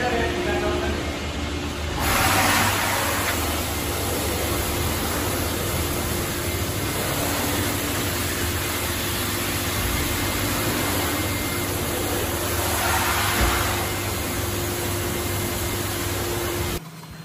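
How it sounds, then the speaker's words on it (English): A high-pressure water sprayer washes the underbody of a Nissan Magnite at a car wash, giving a loud continuous hissing roar that holds steady, with a couple of brief surges, before cutting off at the end. "they are cleaning the underbody of the Nissan Magnite with the help of a water sprayer"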